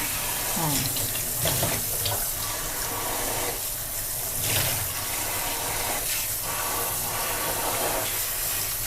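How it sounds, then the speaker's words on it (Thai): Vegetables rinsed under a running kitchen tap, water streaming steadily into a sink for the whole stretch, fairly close, with a few brief splashes and clatters of handling. "ตักล้างผักด้วยน้ำเปล่าต้องสี่ห้าน้ำเลยนะคะ"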